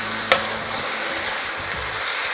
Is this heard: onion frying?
yes